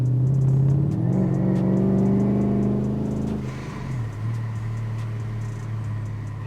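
A supercharged Chrysler 300C with a catless X pipe pulls hard at wide open throttle, its loud engine note rising through the revs, then dropping at a shift and climbing again, heard from inside the car.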